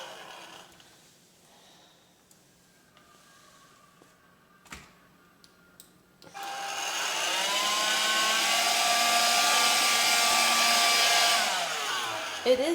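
A Swiffer Sweep Vac cordless stick vacuum runs on a floor picking up crumbs, a steady high-pitched whirring motor hum that starts abruptly after a few clicks and continues close and loud for several seconds before cutting off.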